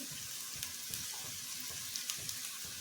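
Onion, tomato and ginger-garlic paste fry in a pan, giving a soft, steady sizzle with occasional faint stirring clicks, heard close and alone without any talking.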